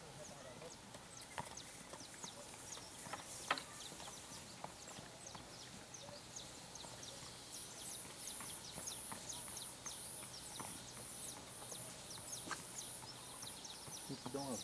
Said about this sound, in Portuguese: Tem que dar uma volta, o cavalo relaxando a passo